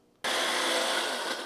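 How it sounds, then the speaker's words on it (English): An electric grinder pulverizes dried hot peppers and their seeds into fine powder, starting abruptly and running as a steady, loud whirring roar throughout. "I'm grinding mine pretty fine."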